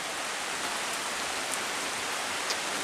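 Steady rain falls at a forest campsite in Allegheny National Forest as an even, dense hiss of drops with a few faint louder taps and no voices.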